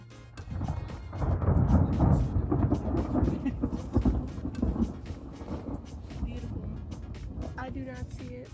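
Thunder rumbles loud and close at a campsite during a lightning storm, with rain falling steadily; the rumble peaks early and fades into ongoing rain while people talk over it.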